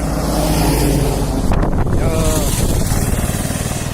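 Strong wind buffets the microphone in a steady roar near a dam, with a tipper truck rumbling nearby and a brief voice partway through.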